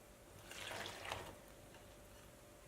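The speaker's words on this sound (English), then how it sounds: "And now I'm going to add the yeast and the water to the flour mixture." Water and yeast pour into a flour mixture in a bread bowl for sandwich rolls, a faint, brief trickling splash rising and fading in a quiet kitchen.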